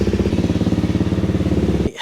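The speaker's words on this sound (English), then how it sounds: "fire it up, let it idle for 5 minutes" A Honda CRF250L motorcycle engine idles close by with a steady, even single-cylinder thump, then cuts off near the end.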